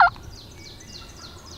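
A wild turkey gobbles once at the start, a loud, sharp burst, then fades into faint background birdsong in an open field.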